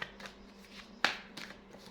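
Tarot cards are handled at close range: soft papery riffles and slides, then a crisp snap as a card is drawn, followed by more light rustling, with no talking.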